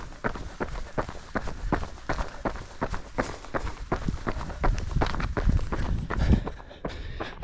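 Running footsteps in Salomon Ultra Glide 3 shoes on a road, a quick steady rhythm of soft close footfalls continuing throughout, moderately loud with no talking.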